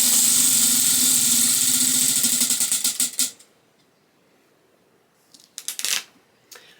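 A spinning prompt wheel ticks rapidly and evenly, its clicks slowing and stopping after about three seconds, followed by near silence and a few faint rustles.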